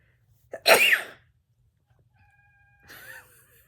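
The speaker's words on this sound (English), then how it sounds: "I'm about to sneeze." A single sharp sneeze bursts out close by, followed after a quiet pause by a short, high cat-like cry.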